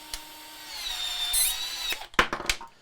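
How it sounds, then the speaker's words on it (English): A Milwaukee M12 cordless pipe cutter (2470-21) cuts through electrical conduit, with a close, high motor whine that rises and holds before a few sharp clacks and bursts as the cut finishes. "So let's cut some pipe. Okay, we've just got some typical electrical conduit here."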